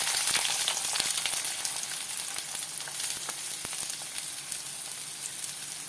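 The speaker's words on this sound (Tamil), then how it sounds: "அதை கடாயை வச்சு பட்டர் அல்லது நல்லெண்ணெய் விட்டுக்கலாம். அதில் ஆனியன் விட்டுடலாம்." Onions sizzle in a pan of butter or sesame oil, a steady close-up frying hiss with small crackles and pops, no voices.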